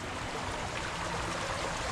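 A little creek choked by invasive bittersweet nightshade vine flows along, a soft, steady, close rush of water with no voices.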